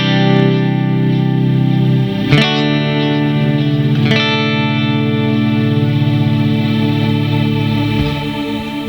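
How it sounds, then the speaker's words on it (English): An electric guitar through a Line 6 HD500 processor with particle verb pad reverb plays sustained, washy chords that bloom and smear together, with a couple of strummed changes ringing into a long, lush, swelling tail. "That is the best pad wash reverb I know of"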